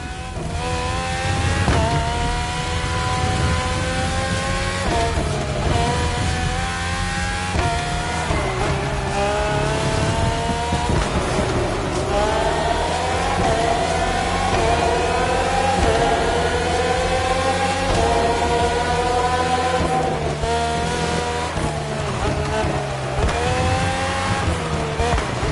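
Red Bull Formula 1 car engines racing in The Crew Motorfest video game make a loud, continuous high-pitched whine, rising through gear shifts and falling off again, with occasional tire squeal and game voice lines beneath.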